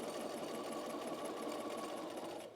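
A sewing machine runs steadily while stay stitching a dress neckline, giving a continuous, close, even mechanical whir with a rapid needle rhythm that stops abruptly at the end.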